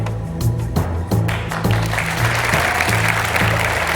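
Studio audience applause during a game show pilot as contestant Edward takes his seat, with clapping swelling under a repeating musical sting and continuing steadily throughout.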